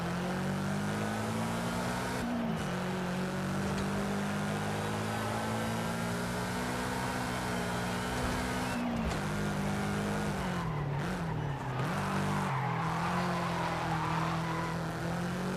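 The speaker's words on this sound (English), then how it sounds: "I think I've got gameplay of the Subaru BRZ, which I will throw in right now." A Subaru BRZ in the racing game Forza Horizon 5 revs hard and skids with sustained tire squeal, its engine note rising and falling steadily through gear changes, loud and continuous with no talk.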